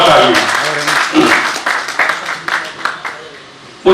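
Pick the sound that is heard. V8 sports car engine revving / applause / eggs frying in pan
applause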